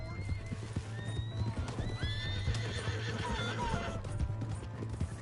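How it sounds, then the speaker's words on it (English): A horse in Red Dead Redemption 2 on PS5 whinnies in several loud, rising calls over a steady run of hoofbeats, with faint in-game voices and background sound underneath. "Hey, that's my horse!"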